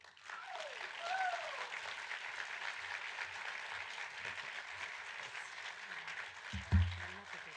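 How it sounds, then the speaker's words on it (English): An audience at an awards ceremony for a climate summit claps steadily for several seconds. The dense applause sounds fairly near, and a brief thump comes near the end. "please let's all give a huge round of applause to Universal Entertainment"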